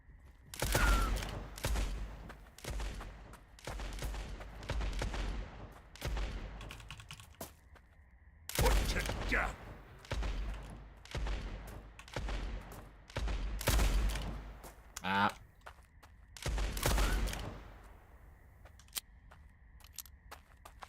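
Video game gunfire comes in repeated bursts of sharp shots spread across about twenty seconds, loud and close, with short gaps between the volleys.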